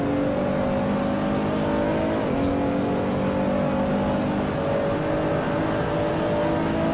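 A GT3-class race car engine in the Assetto Corsa video game at Imola, droning steadily at high revs with a brief shift dip, loud and continuous with no talk.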